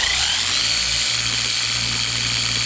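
A car polishing tool running at half speed during a polishing step gives a steady, close, high-pitched motor whine with a low hum beneath, continuous and unbroken, with no talk over it.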